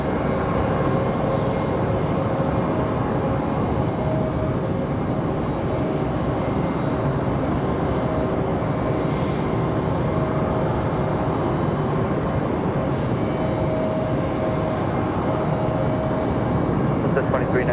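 An Icelandair jet airliner arriving at Raleigh-Durham airport on a windy day makes a steady, continuous engine roar with broadband wind rumble, sustained and fairly loud throughout.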